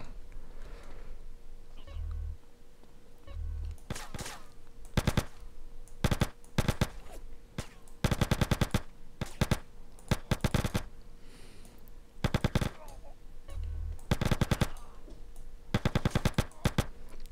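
An SMG fires in the video game GTA San Andreas, short rapid bursts repeating in clusters against a faint background hum, fairly loud and close, with occasional low thumps between volleys.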